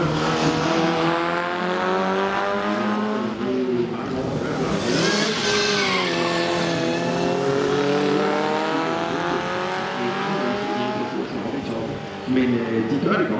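A historic saloon race car at the Copenhagen Historic Grand Prix, its engine revving and rising and falling in pitch as it passes close, with a commentator talking over it throughout.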